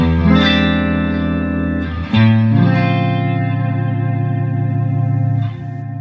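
Clean electric guitar chords through a Neunaber Immerse reverb pedal in an amp's effects loop, drenched in ambient reverb, each strum swelling and ringing out into a smooth, lingering wash.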